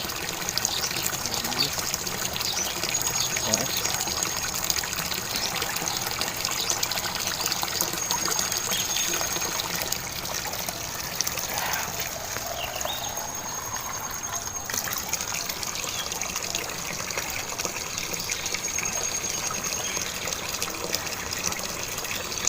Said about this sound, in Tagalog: Tubig sa batis.